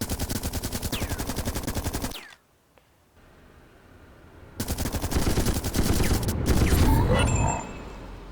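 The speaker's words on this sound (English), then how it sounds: "I'm still going to activate this turret. There's something big in there that I'm shooting at." Rapid turret gunfire in the video game The Red Solstice, a dense mechanical rattle of shots that cuts out for about two seconds of near silence, then resumes louder and heavier with booming impacts layered in.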